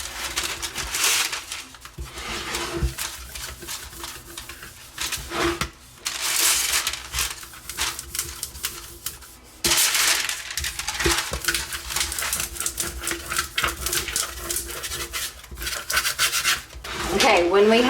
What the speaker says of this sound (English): We want to push down the vinyl as we pull away the parchment paper.